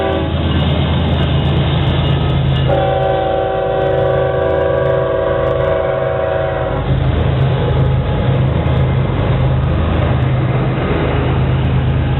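Union Pacific freight train with C-45 units leading and a rebuilt AC6000CW (C-6044AC) trailing, on Beaumont Hill, Yuma Sub: a steady loud diesel roar and rolling rumble, with a sustained horn-like tone for several seconds mid-pass.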